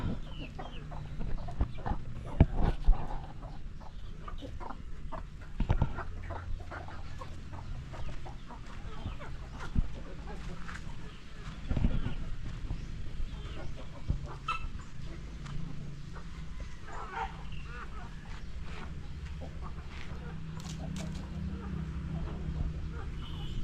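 Native egg-laying chickens clucking in a yard, with soft scattered clucks and rustling under steady low background noise and a few louder thumps, fairly faint throughout.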